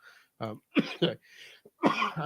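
Several harsh coughs burst out close by in quick succession, with brief pauses between fits and a throaty edge to each one.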